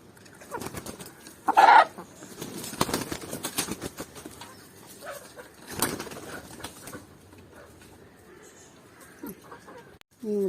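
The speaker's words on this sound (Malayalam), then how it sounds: "കോഴികളെ" Free-range chickens cluck in scattered bursts close by at a coop, with a sudden flurry of wing flapping and quiet gaps between calls.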